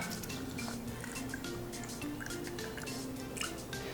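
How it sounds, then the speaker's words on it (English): Freshly squeezed lemon juice pours for a cocktail, a steady liquid trickle and dripping with faint clinks of bar tools against soft room noise. "We'll start with 1/2 ounce of freshly squeezed lemon juice"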